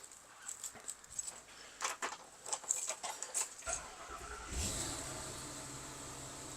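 The 7.3-liter V8 of a 2025 Precept 31UL Class A motorhome on a Ford F53 chassis is heard starting: a few soft clicks and rustles, then the engine catches and settles into a low, steady idle, heard quietly from inside.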